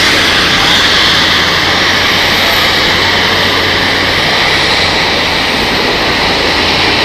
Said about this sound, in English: Engine starting up, pushback for the A340 in front of us